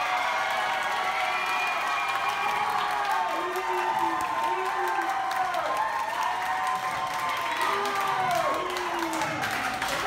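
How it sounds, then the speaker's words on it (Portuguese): Audience applause and crowd noise for a ballroom dance couple at a dance event, a steady continuous roar of clapping and cheering with musical tones running underneath throughout. "Uma salva de palmas de vocês para o casal número 3!"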